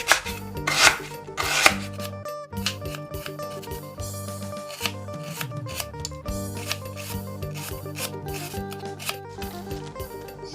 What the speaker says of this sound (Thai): เดี๋ยวเรามาหั่นตะไคร้กันค่ะ